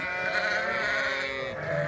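Sheep at a feeder during night chores on a farm give a single sustained bleat, close and fairly loud, drawn out for nearly two seconds.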